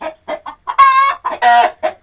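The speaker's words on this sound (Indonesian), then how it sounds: "ini agak berisik soalnya ini ayam saya mau bertelur ya teman-teman" A hen about to lay an egg clucks loudly and close by, in short rhythmic bursts with two longer, drawn-out squawking calls in the middle.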